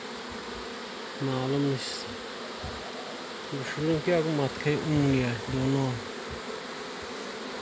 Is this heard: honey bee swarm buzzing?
yes